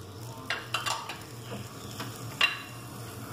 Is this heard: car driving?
no